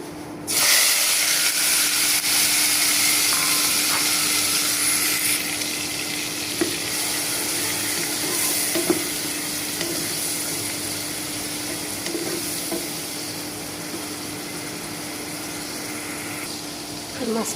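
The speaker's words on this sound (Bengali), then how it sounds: "এখন আমি মাছটা দিয়ে দেবো" Fish sizzles and spatters in hot oil in a wok, a steady frying hiss with occasional pops and stirring scrapes, close by and continuous throughout.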